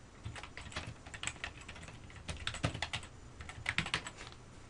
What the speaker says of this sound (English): I'll just go ahead and type another comment there